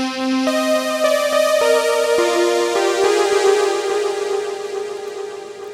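A Pigments synthwave lead with ping-pong delay plays a short descending run of notes, each one ringing on with echoing, spacious tails that blend into a wide wash.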